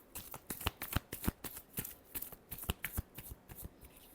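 Tarot cards being shuffled by hand, a quick run of crisp riffling flicks and soft slaps repeating steadily, close up and fairly quiet with no voices.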